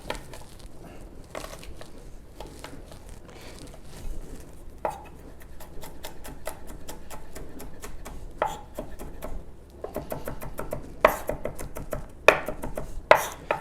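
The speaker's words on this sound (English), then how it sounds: "chop my herbs" Herbs and garlic being chopped with a knife on a board, bursts of rapid rhythmic knocks separated by pauses, growing busier and louder toward the end, close up.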